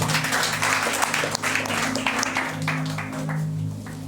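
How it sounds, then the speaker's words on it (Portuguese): A church congregation claps in scattered, rhythmic applause over sustained keyboard tones, with faint voices in the background. "Aplauda ao Senhor."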